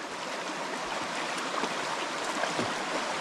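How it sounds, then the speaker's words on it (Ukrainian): A mountain river in the woods rushes and burbles steadily close by, a constant broadband wash of flowing water with small splashes, with no voices over it. "Підходимо до річки."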